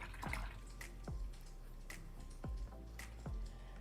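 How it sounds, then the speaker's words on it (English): A paint brush is rinsed in a cup of water, giving soft swishes, small splashes and drips every second or so, quiet and close, with no talking. "let's go ahead and rinse out now"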